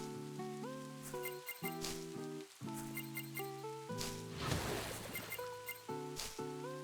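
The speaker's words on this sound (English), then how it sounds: "I can't water them because it's raining" Steady in-game rain hiss in HoloCure, soft and continuous beneath louder looping game music.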